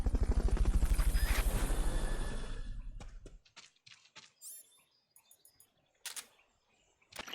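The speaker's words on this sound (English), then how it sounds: "Fulton recovery subject confirmed onboard helicopter." A helicopter's heavy rotor thrum from the Fulton recovery in the game Metal Gear Solid: Peace Walker fills the first three seconds loudly, then cuts off, leaving scattered short game effects and chirps.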